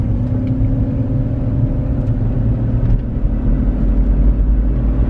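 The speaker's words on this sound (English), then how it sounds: "I'm flooring it right now and it's barely gaining speed." A BMW E90's engine drones steadily under full throttle while the car gains speed only slowly, with a heavy low rumble from inside the cabin. No one speaks.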